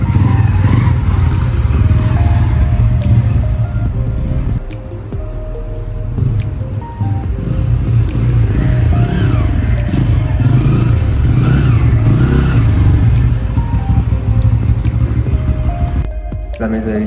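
A Bajaj Pulsar N160 motorcycle on a test run after a full service, its engine running and revving up and down close by for the whole stretch, with rattles and voices talking over it.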